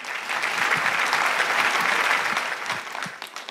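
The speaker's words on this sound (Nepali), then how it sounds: "फेरि पनि एकचोटि यहाँको लागि जोडदार ताली." Audience applause at a Bhutanese Refugee Singing Idol Top 6 singing competition show, loud sustained clapping from a crowd that swells and holds steady before tapering off near the end.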